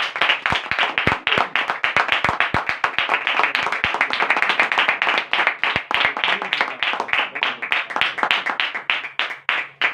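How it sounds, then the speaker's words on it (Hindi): At a Hindi-language church gathering, a congregation delivers loud, energetic applause, dense crisp claps rattling quickly and unevenly for about ten seconds with no pause, close and full. "एक बार जोरदार तालियां"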